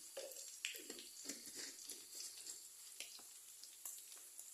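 Wood ear mushrooms and baby corn stir-fried with minced pork, giving a soft, steady sizzle with faint scraping and clinking of the utensil against the pan.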